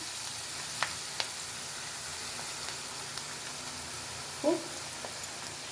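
Baby corn gravy ingredients, including tomato, sautéing in a pan: a steady soft sizzle throughout, broken by a few faint clicks and one brief louder knock as the mixture is stirred.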